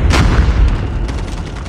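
Heavy gunfire and booming blasts from the Call of Duty video game, a loud dense burst up front followed by continuing rumbling shots and rattling impacts with no pauses.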